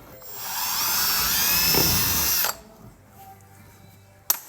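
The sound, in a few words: power drill drilling hole for truck rock light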